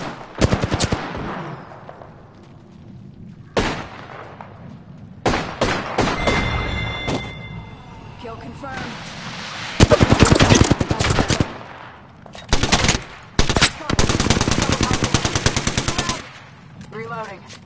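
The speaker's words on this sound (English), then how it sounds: "Shots fired at me." Bursts of automatic gunfire in the Apex Legends battle royale, loud rapid volleys broken by short pauses, with scattered single shots and sustained sprays in the later half.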